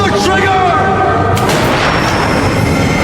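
A gunshot fired at a magician in a film scene lands as a single sharp, loud bang with a rumbling tail, right after a voice shouts over a tense backdrop.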